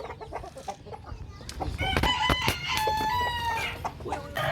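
A hen clucks loudly and repeatedly nearby after laying an egg, a run of sharp, excited calls that swell toward the middle and keep going, with farmyard background noise around them.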